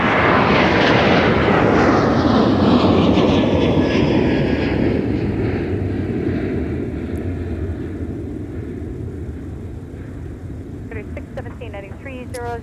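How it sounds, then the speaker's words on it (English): A Sun Country jet airliner, flight 617 bound for Palm Springs, roars loudly close by at MSP airport, its broad engine rumble slowly fading as it passes. Someone talks over it throughout. "That's Sun Country 617 headed to Palm Springs."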